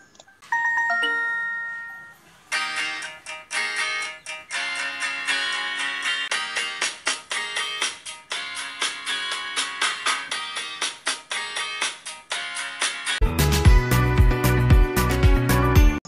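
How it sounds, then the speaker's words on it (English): A OnePlus 6 phone, Marvel Avengers limited edition, plays a series of ringtones. Bright chiming electronic melodies sound in turn, with a brief gap, then a busier, denser tune near the end. "Now let us test the new ringtones of the OnePlus 6 cell phone."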